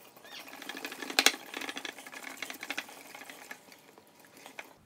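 Jiffy cornbread mix stirred with an egg and buttermilk in a bowl for cornbread waffles, giving a quick rapid clicking and scraping of the utensil that peaks early and then continues as lighter, irregular taps, close up and without talking.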